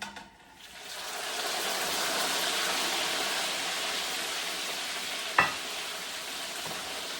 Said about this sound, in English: So I'm going to fry for the second time.